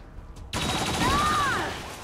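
A turret opens fire in XCOM 2: War of the Chosen with a sudden loud onset, and a sustained burst of shots follows for about a second and a half.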